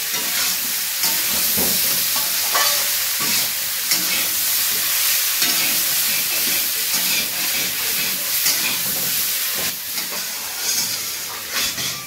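Chopped tomato and green chili fry in hot oil for a fish and eggplant curry, giving a loud, continuous, hissing sizzle with occasional soft stirring sounds and no voices.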